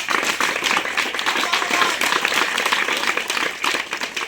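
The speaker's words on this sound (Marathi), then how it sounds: "एकासाठी जोरात टाळ्या वाजवा" Audience clapping at a Diwali celebration with children held by a community organization, a continuous busy patter of many hands, moderately loud and fairly even throughout.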